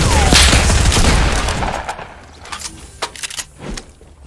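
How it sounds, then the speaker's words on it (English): Shotgun blasts in the video game Fortnite, a loud burst of gunfire at the start that fades out, followed by a scattered run of sharper, quieter shots and clicks. "I was making sure to hit those shotgun shots"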